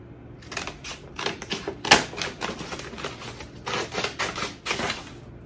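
Scissors cut stiff paper lengthwise for a paper ballerina mobile, giving a steady series of close, crisp snips with one sharper crunch partway through, and no voices.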